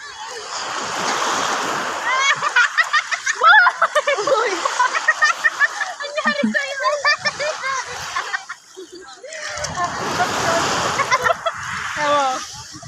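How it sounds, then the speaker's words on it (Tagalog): Strong sea waves splash and surge at a beach, rushing and crashing in loud bursts while people talk and laugh close by over the churning water. "Lakas ng alon, guys."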